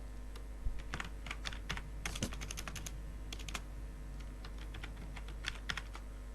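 Quiet, irregular clicking of keys being typed on a computer keyboard, close by, with a steady low hum underneath and no voices.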